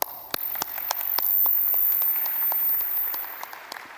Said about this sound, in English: let us give a final round of applause for all the awardees.